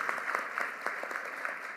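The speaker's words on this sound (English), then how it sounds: "Let's give the William Penn Foundation a round of applause." Audience applause at the Philadelphia school district's State of Schools 2025 event, a dense, even patter of many hands clapping at a moderate distance without pause.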